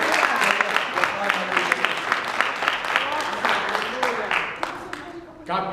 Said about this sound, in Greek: Ένα χειροκρότημα στον Κύριο Αθλητή.